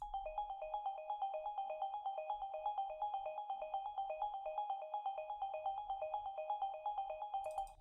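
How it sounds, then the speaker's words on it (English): A bright bell-like synth arpeggio from an electronic dance drop repeats a steady, fast rhythmic note pattern, loud and clean on its own for several seconds. "Another thing that's playing in the second part of the drop is this ARP"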